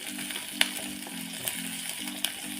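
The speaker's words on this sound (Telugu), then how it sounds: "ఈ ఆనియన్స్ బ్రౌన్ కలర్లో వచ్చే వరకు వేయించుకోవాలి" Onions frying in a pan on a home stove, browning for a ridge gourd curry: a soft, steady sizzle with a repeating low hum and a few sharp clinks of a spatula against the pan, no talk.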